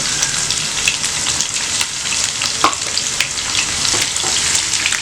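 Long-sliced onions fry in a pan for mutton biryani, giving a loud, steady crackling sizzle with occasional soft stirring scrapes and no voices.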